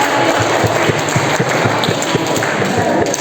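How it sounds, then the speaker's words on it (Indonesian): An audience claps to welcome a guest speaker at a student book-review event, a fairly loud, even patter of many hands with scattered distinct claps throughout. "Tepuk tangan"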